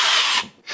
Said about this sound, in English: And now we can just drill our holes.